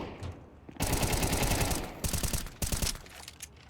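Rapid automatic gunfire rattles in Counter-Strike 2 on an assembly map, long sustained bursts with short pauses and a final volley, loud and close without speech over it.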